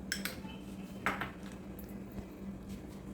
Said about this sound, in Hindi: और मैंने फिर इन दोनों को मिक्स कर दिया